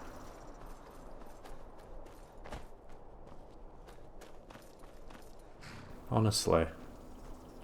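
Horse hooves clip-clop in the video game Skyrim, a soft rhythmic stream of light footfalls with a few louder thuds, under someone talking briefly.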